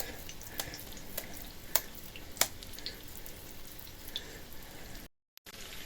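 Cutlets frying in a small Hascevher frying pan make a steady close sizzle. Occasional sharp pops and crackles sit over the bed of frying, and the sound cuts out briefly near the end. No one speaks.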